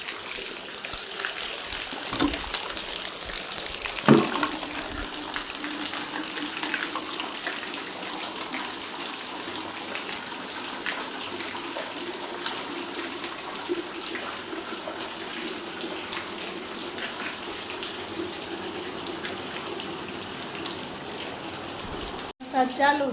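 Steady rush of water pouring into a bucket at home, a continuous gushing fill lasting the whole stretch with a brief clatter near the start and a knock at the end.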